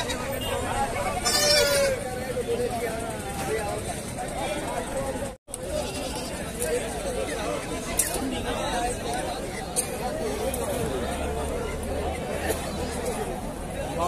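Goats and kids bleating at a busy wholesale goat market in Nadia, West Bengal, their cries mixing with steady crowd chatter and people talking throughout.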